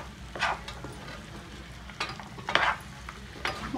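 A spoon stirs chicken fry in a pan, scraping and clattering in a few short bursts over a low, steady sizzle, close by.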